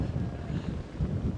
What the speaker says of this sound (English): It's windy and it's cold and it's raining.